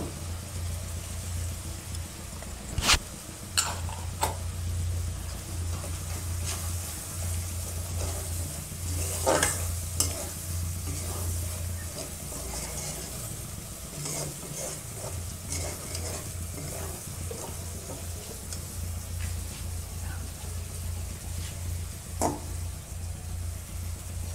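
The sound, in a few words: ginger and potatoes frying and being stirred in a pan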